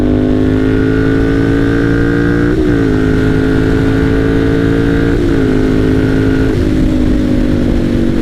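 A Ducati Monster 796 motorcycle accelerates hard while being ridden, its engine note climbing steadily through several gear shifts with brief dips between, loud and close throughout with no talking.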